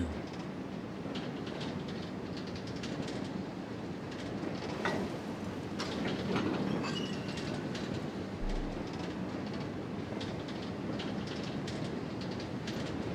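An EE Type 3B train in a Train Simulator game rolls along the rails near Maerdy with a steady low rumble and rhythmic clatter of wheels, continuous and fairly close, with no talk over it.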